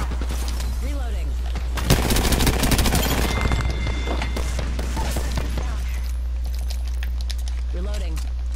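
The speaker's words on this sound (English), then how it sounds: "I'm taking shots" Video game gunfire crackles in a loud, dense burst, with rapid shots rattling over a steady engine-like drone before fading back to the hum; people talk at the start and end.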